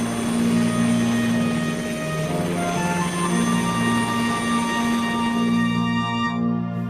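Harold the helicopter lifts off, a loud, close, sustained engine whine with layered steady tones that thins and fades away at the end.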